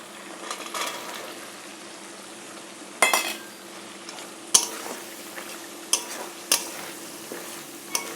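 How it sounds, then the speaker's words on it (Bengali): Fish with raw chickpeas and spices frying in a pan, a low continuous sizzle broken by several sharp clanks of a spatula stirring against the pan at irregular intervals. "মশলার সাথে এটা সুন্দর করে ভেজে নেব"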